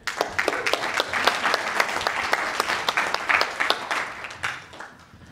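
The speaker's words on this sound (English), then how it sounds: "So give yourselves a round of applause because you've earned it." An audience at a marketing seminar applauds, crisp separate claps from a modest crowd building briefly and then thinning out toward the end.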